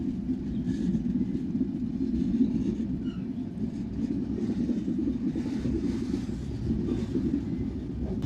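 A Panchagarh Express passenger train rolls along steadily, its continuous low rumble and wheel noise filling the whole stretch at an even, moderate level with no voices.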